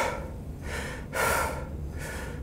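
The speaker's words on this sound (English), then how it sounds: "which is still pretty decent breathing" A running coach demonstrates heavy breathing: deep, audible breaths alternating in and out, about two full cycles, close to the microphone with rasping air noise.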